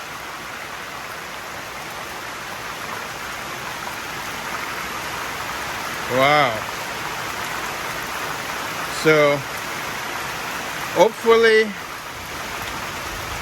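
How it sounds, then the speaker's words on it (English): Steady rain falling outdoors over a garden where weed barrier fabric is being laid, a constant close hiss throughout, with a few short spoken exclamations over it. "Look at the rain."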